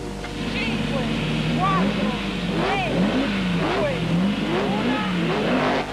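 A rally car at night on the 1979 San Remo Rally pulls away, its engine revving hard and rising in pitch through several gear changes, loud against steady background rumble.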